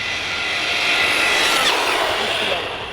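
An ARRMA Typhon 6S V4 RC car on a 4S battery screams past at full throttle, a loud, steady high-pitched electric motor whine holding for about three seconds with a slight Doppler-like swell in the middle.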